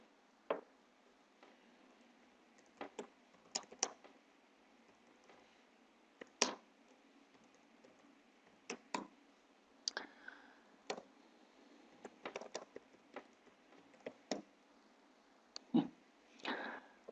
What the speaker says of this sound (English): Let me just type here